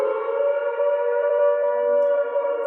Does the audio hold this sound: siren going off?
yes